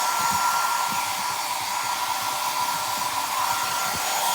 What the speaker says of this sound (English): Let's just see if the hairdryer can blow all that away.